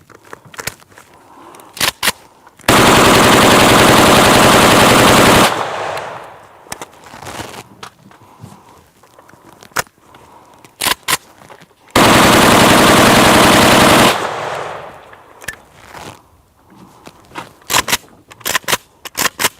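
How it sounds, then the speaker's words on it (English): Machine gun fire empties a whole magazine of Silver Bear ammo in two long, loud, sustained bursts, separated by quieter stretches of scattered single shots and clatter. "That was a whole magazine of Silver Bear ammo"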